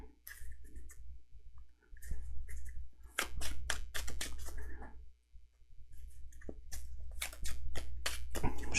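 A deck of game cards for the board game Earthborne Rangers is shuffled close up, with repeated papery riffles and snapping bursts in uneven runs over a low room hum, with no talk.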